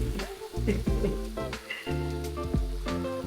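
Turkey sausage and potatoes sizzling in a pan while being stirred, with scraping clatter of the utensil and steady frying hiss up close; a voice speaks briefly.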